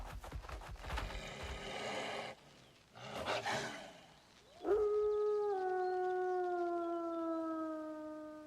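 An electro puppy monster in the game Echoes of Aincrad lets out a loud, sustained howl that wavers and slowly falls in pitch, following a couple of rough growling bursts.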